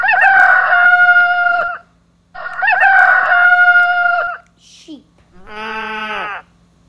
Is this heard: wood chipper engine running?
no